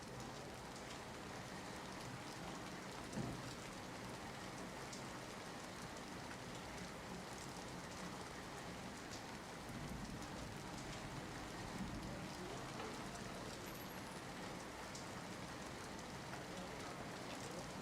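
Heavy rain pouring down in Bhuj, Kutch, a steady, dense hiss of downpour on surfaces that continues evenly throughout without letup.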